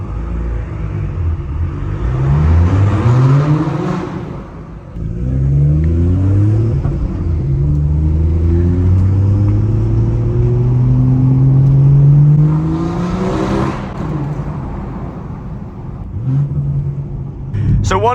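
A BMW M240i with a 440 hp B58 engine accelerates hard through a tunnel, its engine climbing in repeated rising sweeps with gear shifts between pulls, loud and echoing. A voice is heard briefly.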